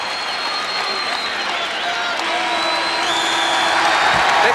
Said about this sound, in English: Big roar from the crowd at Hilton Coliseum.